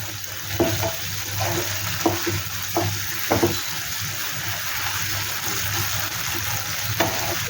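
Cashew nuts fry in oil while a spoon stirs them, giving a steady bubbling sizzle with soft scraping strokes and light knocks at irregular intervals.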